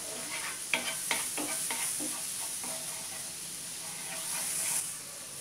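Garlic sautéing in a pan for fondue, a soft steady sizzle with a few light stirring scrapes near the start, close and fairly quiet.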